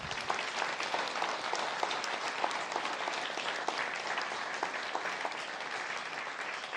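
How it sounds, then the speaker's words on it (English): An audience at a guide dog graduation ceremony breaks into sustained applause, a dense, steady clapping from many hands, fairly close and continuous, with no voices rising above it. "Let's give everyone a round of applause."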